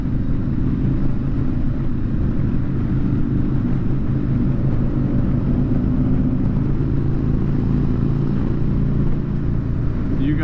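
Motorcycles in a staggered group ride on the road, a loud continuous engine drone and rumble with wind noise from the rider's position, steady throughout, no talking.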